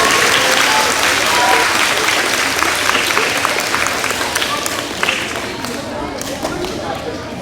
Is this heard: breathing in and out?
no